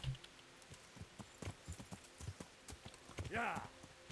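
Horse hooves clip-clop in a steady walking rhythm in the medieval video game Kingdom Come: Deliverance, clear and close, with a brief snort or whinny near the end and soft talk mixed in.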